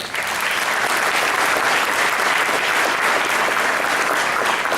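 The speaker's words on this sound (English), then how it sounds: "So please, another round of applause for eBay." An audience at an economic summit, hosted by a Hispanic Chamber, gives eBay a round of applause: a dense, loud, steady wash of many hands clapping that holds evenly throughout, with no voices over it.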